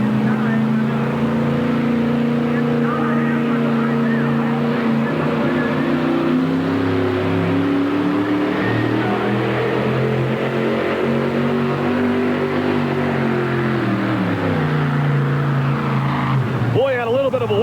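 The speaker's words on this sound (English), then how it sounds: "We'll see what happens as the Ford takes to the track for the first time." A Ford pulling truck runs down the track at a 1991 NTPA truck and tractor pull in Rock Springs, Wyoming, its loud engine droning steadily throughout and wavering in pitch near the end as the run winds down, with an announcer talking over it.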